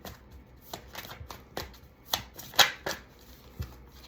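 Tarot cards shuffled by hand in a quiet room, a series of soft riffling bursts and sharper snaps at irregular intervals.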